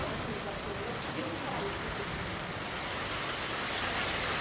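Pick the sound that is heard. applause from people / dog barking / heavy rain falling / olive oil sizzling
heavy rain falling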